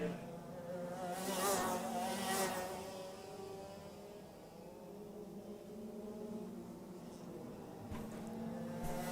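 Racing kart engines drone at a distance around a track, a steady buzzing whine that rises and falls as the pack passes, with no talk.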